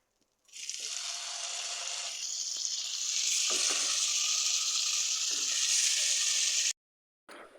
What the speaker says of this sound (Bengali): আর এটাকে এখন একটু হাই ফ্লেমে, মানে হাই আঁচে এক পাশ লাল করে একটু ভাজতে হবে